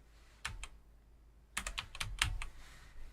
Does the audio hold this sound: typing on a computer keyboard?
yes